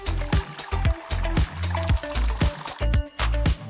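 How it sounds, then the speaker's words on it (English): Water glugs into a cooking pot in quick, rhythmic pulses, loud and close, with a steady splashing beat as the pot fills. "Fill it up with water."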